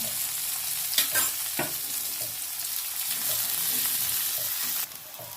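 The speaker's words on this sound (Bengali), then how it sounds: "ওই তেলে আমি পেঁয়াজ ভেজে নেব আর দিয়ে দেবো রসুন দুটোকে আমি ভালো করে ভেজে নেব" Onions and garlic fry in hot oil for a tilapia fish bharta, a dense continuous sizzle up close, broken by a few clacking stirs of a spatula against the pan before it suddenly quiets near the end.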